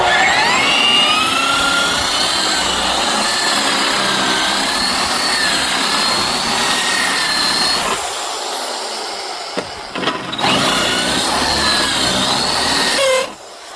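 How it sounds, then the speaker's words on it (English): A hammer drill drilling into the metal of a Ford F-150 rocker panel gives a loud, continuous grinding roar for several seconds, briefly dropping out near the end before resuming and cutting off. "This is a hammer drill and it keeps sliding on."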